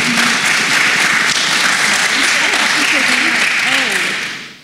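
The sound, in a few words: audience applause for panel speakers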